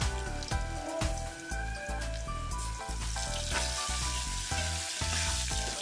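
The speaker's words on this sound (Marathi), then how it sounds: "आता आपण एक चार ते पाच कढीपत्त्याची पानं देखील त्यावर टाकून देणार आहोत." Curry leaves and crushed garlic crackle and sizzle in hot oil for sambar, a steady close frying hiss with sharp spattering pops throughout, no voices.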